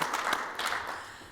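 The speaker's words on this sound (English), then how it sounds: "a little round of applause for yourself and for our speakers today" Brief, fairly faint applause from a conference audience, a light scatter of claps that peaks early and then thins out.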